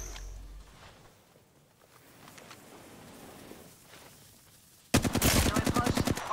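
Rapid automatic gunfire from the video game Apex Legends bursts in loud and near toward the end, a steady train of sharp shots after a quieter stretch of faint game ambience and scattered distant pops.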